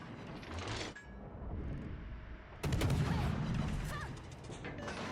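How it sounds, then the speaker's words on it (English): Torpedo impacts on a battleship in World of Warships Legends, a loud sudden crashing burst partway through, layered over ongoing game mechanical noise and gunfire-like rumble. "Yep, there's Janan Torps that just hit our battleship."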